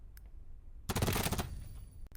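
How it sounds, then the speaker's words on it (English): A short burst of MP7 submachine gun fire in a video game, a loud, dense rattle of rapid shots lasting about half a second, followed by a brief quieter tail and a final faint click, with no talking. "So this was killing a player with MP7 on a headshot."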